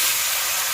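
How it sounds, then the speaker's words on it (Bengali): Vegetables hit hot oil with torn bay leaves in a pan at a village cooking fire, a short, loud, continuous hiss of sizzling. "সবজিটা ঢেলে দিলাম"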